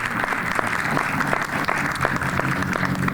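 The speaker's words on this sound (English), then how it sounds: "Let's hear a round of applause for the sisters this morning." An audience at a morning civic gathering in Springfield claps steadily, a dense, even wash of applause heard from within the room.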